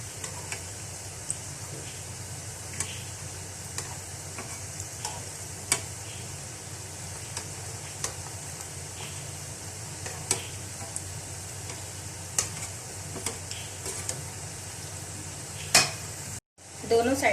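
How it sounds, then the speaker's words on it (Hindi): Galouti kababs fry on a slow flame in a pan with a steady, close sizzle, broken by occasional light ticks and clinks of a utensil stirring or turning them, until a brief cutoff near the end. "स्लो फ्लेम पर हमने इनको फ्राई करना है"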